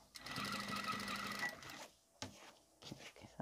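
Household sewing machine stitching a seam with a standard presser foot on a sleeveless dress, a steady fast whirring hum for about two seconds, then it stops and soft handling clicks follow.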